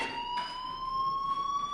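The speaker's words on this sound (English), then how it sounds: "Hey, do you hear that fire alarm?" A fire alarm in the video game Life is Strange rings as a steady, piercing electronic tone that holds for a couple of seconds, fairly quiet in the mix with faint background hiss.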